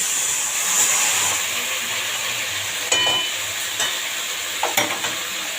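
Spiced kechki fish fries in a pan, a continuous bright sizzle with a few sharp clicks and clatters of a utensil stirring against the pan.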